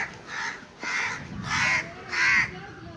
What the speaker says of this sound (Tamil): காக்காலாம் கத்துதுங்க.